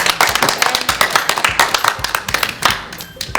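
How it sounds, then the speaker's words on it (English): Middle school students clap together in a short round of applause, a dense patter of hand claps that thins out toward the end. "So give yourselves a round of applause because you guys did a great job"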